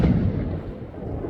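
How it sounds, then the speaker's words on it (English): Fireworks boom in the sky at a New Year celebration, a loud low rumbling burst that decays into a rolling echo, with no voices. "fireworks."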